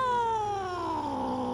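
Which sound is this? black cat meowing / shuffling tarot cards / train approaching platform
black cat meowing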